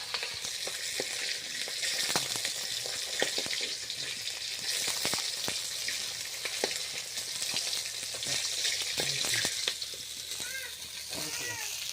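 Fish fries in hot oil in a pan with a continuous loud sizzle and frequent crackling pops. A voice speaks over it at times, and a cat meows briefly near the end.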